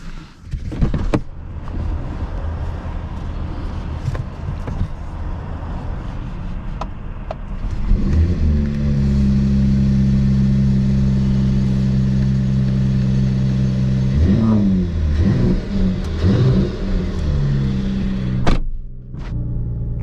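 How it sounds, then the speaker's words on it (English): A 2021 Mercedes-AMG GT 43 4-door coupe's 3-liter inline-6 turbo engine starts after quiet clicks and settles into a steady, close, fairly loud idle, broken by two short blips of revving near the end. "listen to the sound from the engine."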